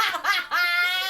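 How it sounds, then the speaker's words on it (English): A phone alarm plays a bright, melodic electronic jingle that sounds like an ice cream truck tune. The stepped tones change pitch and ring clearly and alone for a moment. "Sorry, it was an alarm."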